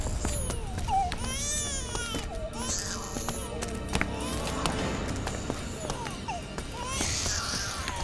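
A baby crying from inside a well in a horror film, wavering wails repeating among layered background noise, with people talking nearby.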